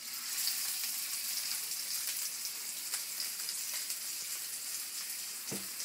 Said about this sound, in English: Okay, olive oil is smoking, rack of lamb going in.